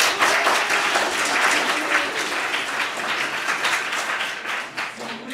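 An audience at a live stage show applauds to vote for Frankenstein, a loud, dense, continuous wash of clapping that holds steady for about five seconds and softens slightly near the end.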